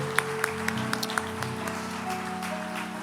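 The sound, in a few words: congregation applauding in church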